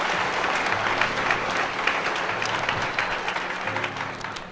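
Concert audience applauding at a 1970 live performance in Washington DC, a dense, steady wash of clapping from a large crowd that holds for several seconds before slowly easing.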